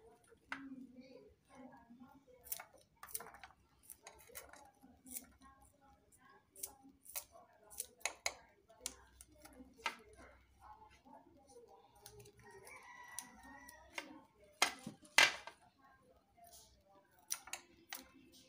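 Spring onions being cut into pieces with scissors, making a run of crisp, irregular snips close by, some sharper than others, with soft handling noises between cuts.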